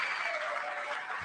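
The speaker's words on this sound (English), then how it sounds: "I'm clapping." Sustained applause from a large audience in the chamber at the 2026 State of the Union address, a steady dense wash of many hands clapping at moderate loudness throughout.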